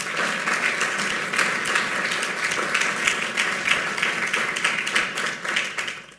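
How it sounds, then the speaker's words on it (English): Audience at a Cincinnati State of the City address bursting into sustained applause, many hands clapping in a dense, loud wash that swells and then tapers off at the end. "I had a feeling that would be an applause line."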